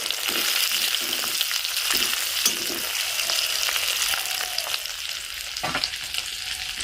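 Gunda (glue berries) fry with ajwain in a hot pan, producing a loud, continuous sizzle and crackle with occasional stirring scrapes, close by and without talk.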